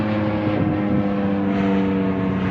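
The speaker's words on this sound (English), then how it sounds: "Oh, you can hear the helicopter." A police helicopter drones steadily overhead, a continuous low rumbling thrum with rotor hum, loud and unbroken.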